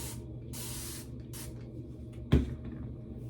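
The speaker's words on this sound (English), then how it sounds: "We're going to spray some water" A spray bottle gives a single short, sharp spritz of water onto microlocs hair against a faint background hiss, with a few soft handling noises before it.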